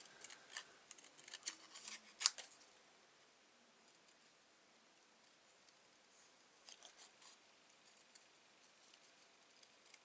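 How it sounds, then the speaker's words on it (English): Paper fussy cut with scissors for a paper pumpkin craft: quiet, close snips in small clusters, busiest early with one sharp snip, then sparse faint clips after a quiet stretch. "So easy to cut out. I'm getting so used to this fussy cutting."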